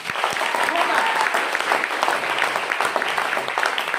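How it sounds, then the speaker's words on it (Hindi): Loud, sustained applause from an audience at a company event, many hands clapping densely and steadily for several seconds with no pauses. "एक जोरदार ताली उनकी"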